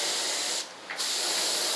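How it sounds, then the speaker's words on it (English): Spray gun laying down camouflage paint on an RC F-105 Thunderchief jet model: a steady, close broadband hiss that cuts out briefly partway through and then resumes, with no voices. "you want to spray into your color, otherwise you get a bunch of overspray"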